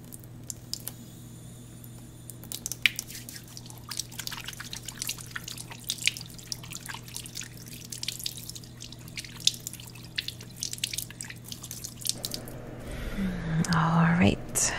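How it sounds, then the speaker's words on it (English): Scattered drips and soft clicks of water, a close and quiet ASMR setting, building into a fuller running-water trickle as hands are washed near the end. "Let me just wash my hands before I touch you."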